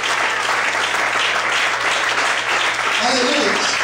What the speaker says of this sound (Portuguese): As nossas palmas, amém?